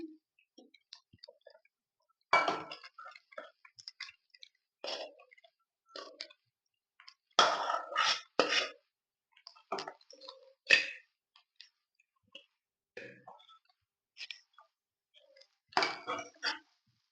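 Leftover rice being stirred with spices in a pan: sparse, faint scrapes and clinks of a utensil against the pan in uneven bursts, separated by quiet gaps.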